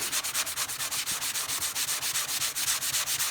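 Painted furniture is rubbed back and forth by hand to distress the finish, producing a steady rhythmic swishing, about seven strokes per second, close and even with no voices.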